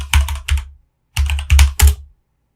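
Keystrokes on a computer keyboard as a passphrase is entered, in two quick bursts of clustered taps separated by a brief pause, close and clear with no talking.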